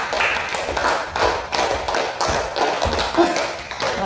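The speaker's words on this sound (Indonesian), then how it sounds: "Tepuk tangan dulu." Students in a classroom clap their hands together in a dense, uneven burst of applause that carries on steadily, with quick taps and a few thuds mixed in.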